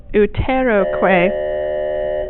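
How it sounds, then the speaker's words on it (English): A doorbell sounds indoors as a bright chime whose steady tone rings on and slowly fades, following a brief burst of voice at the start. "that scared me, it's the bell"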